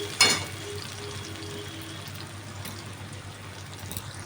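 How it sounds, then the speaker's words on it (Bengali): Salted onions frying in a pan for a Bengali katla fish kalia, a soft steady sizzle after a brief clatter at the start, fairly quiet with no talking. "পেঁয়াজটা ভেজে আমি উঠিয়ে রাখছি আগে"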